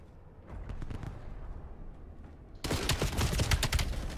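A Maddox rifle fires in Call of Duty Black Ops 7, a distant crackle of gunfire that turns into a loud, rapid burst of close shots partway through.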